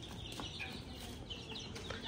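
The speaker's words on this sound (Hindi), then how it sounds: "ये मुर्गी है, वो देखो इसने अपने पंजे ऐसे बंद किए हुए, ये मुर्गी है।" Farmyard chickens clucking continuously at moderate distance, soft repeated hen-like calls over a steady rustling background, with no speech.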